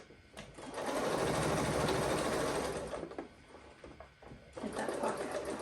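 A sewing machine stitches a pocket on smocked pants in rapid bursts, a dense mechanical whir running about two seconds, pausing briefly and starting again, close and fairly quiet.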